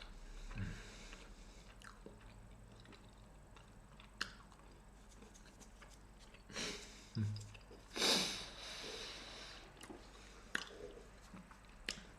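Someone biting into and chewing crispy keto Carnival treats, a few loud crunchy bites and squishy chews spaced out over quiet breathing, close to the mic with no talking.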